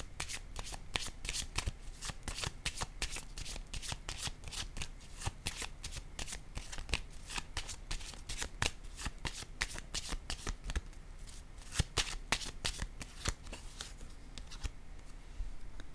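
Tarot cards shuffled steadily by hand, a dense run of crisp, rapid riffling flicks and taps lasting throughout, close and fairly quiet, with no voice over it.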